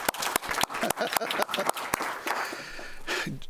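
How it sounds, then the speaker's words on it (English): Scattered clapping at a school board meeting for a school resource officer, sharp individual claps at close range, growing thinner and fading after a couple of seconds as the room settles. "we can clap for Joe"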